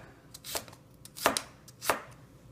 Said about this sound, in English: then simply cut it like this, and it'll be ready to stir fry.